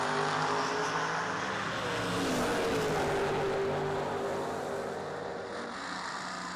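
Drag race cars, a Chevrolet Camaro and an Oldsmobile, launch at a dragstrip, a loud sustained engine roar with rising pitch heard from a distance.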